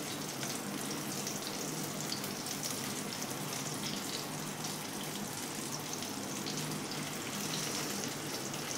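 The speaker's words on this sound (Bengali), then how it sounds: "তাই সিমে করে এটাকে ভালো করে ভাজতে হবে।" Fish koftas frying in mustard oil in a kadai over low heat, giving a steady, dense crackling sizzle that holds evenly throughout with no voices.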